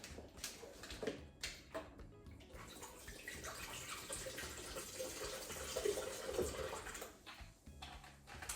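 Coconut water pours steadily into a glass as the base for a green drink, a continuous liquid splash and trickle lasting several seconds with a few brief clinks at the start and end, close up and with no talking.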